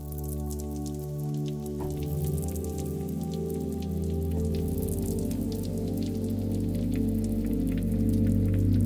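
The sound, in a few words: rain sound from a sample library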